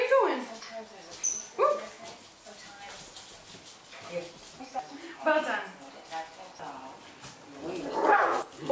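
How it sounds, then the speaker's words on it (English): A puppy whimpers and gives several high yips in short bursts spread through the clip, close by and fairly quiet, with a person talking between the cries. "there's a dog"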